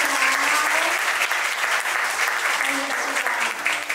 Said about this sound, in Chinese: 那我们热烈掌声欢迎的是 SYN 三洋工业大家长吴清源